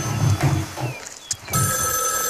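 A telephone rings in a Moroccan TV drama scene. An electronic ringing tone starts about halfway through and continues steadily to the end, after a stretch of low, muffled background sound.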